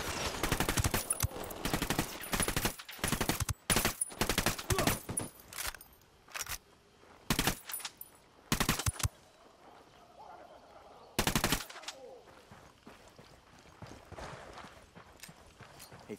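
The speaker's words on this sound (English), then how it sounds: "I'm opening fire on these shitheads." Automatic weapon fire in Ghost Recon Wildlands, several loud rapid bursts of gunshots separated by pauses, close and sharp, then quieter ambience.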